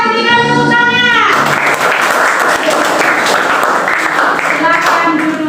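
Classroom of students clapping on cue from their teacher, a loud, dense burst that starts after a short stretch of chanting voices and carries on steadily, with talk and cheering mixed in.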